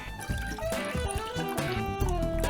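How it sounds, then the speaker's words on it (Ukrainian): Water left from soaking mushrooms is poured into a cooking pot for a mushroom soup, a close, continuous splashing trickle whose pitch shifts as the vessel fills. "Туди зілємо воду після відмочування грибів."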